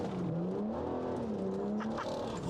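A BMW 640d with a Stage 2 tune to 400bhp drifts sideways on a private road, its diesel engine droning loudly and rising and falling in pitch, with faint tyre noise.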